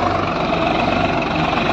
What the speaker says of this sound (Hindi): अब ये ट्रैक्टर अगला डोला बना रहा है।